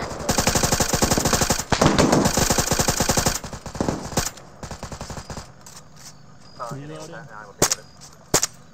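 Squad of soldiers returning fire at an enemy position, sustained loud bursts of machine-gun and rifle gunfire dominating the first half, then tapering to scattered shots amid shouting voices.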